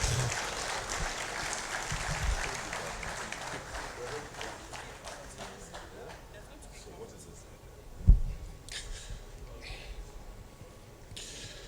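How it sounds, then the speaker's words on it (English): An audience claps at a book launch event, the applause fading gradually into scattered claps as people talk nearby, with one sharp thump partway through. "That applause is not strong enough for this"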